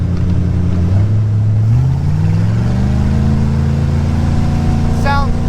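A cheap used speedboat's engine climbs in pitch as it accelerates hard onto plane, a loud close drone with rising harmonics, and a voice talks briefly over it.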